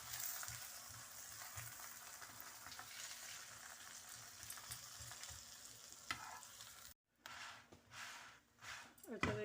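A paratha frying on a pan in oil and butter gives a soft, close sizzle with scraping and stirring sounds. Someone talks over it, and the sound breaks off briefly near the end.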